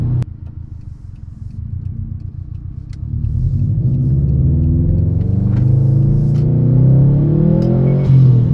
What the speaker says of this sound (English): You hear the turbo a little bit.